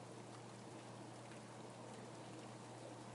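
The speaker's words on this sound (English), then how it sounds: "Outside, a heavy rain is falling." Heavy, steady rain falls outside a large window, a continuous soft hiss of drops without gusts, faint and even throughout, with no voices.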